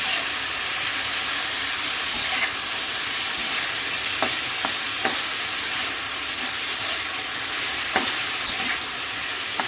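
Ground coriander, cumin and fresh turmeric frying in oil for a Bengali fish curry with drumsticks, a continuous close sizzle with occasional sharp spatters and light stirring scrapes.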